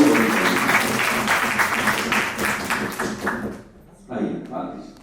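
A live audience at an annual Hindi poetry festival breaks into loud, sustained applause to welcome a poet to the stage, the clapping dense and steady for about three and a half seconds before briefly dropping off and then resuming.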